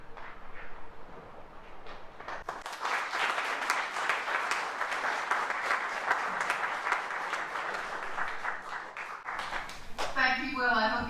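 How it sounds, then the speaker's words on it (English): After a lecture on delusion and the brain, the audience breaks into sustained applause lasting several seconds at a moderate distance, preceded by a quiet murmur and followed by a voice beginning to speak. "I hope you could hear that applause"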